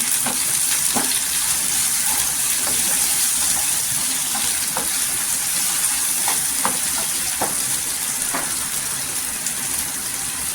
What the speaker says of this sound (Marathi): इथे तेलावर आहे ना छान असं परतून घ्यायचं।